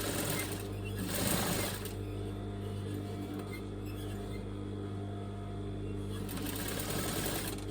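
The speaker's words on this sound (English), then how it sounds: "I'm going to flip it over and I'm going to do a twin stitch." A sewing machine runs a twin stitch along the hem of a homemade top, giving a steady, close mechanical whir that holds throughout with a slight surge early on.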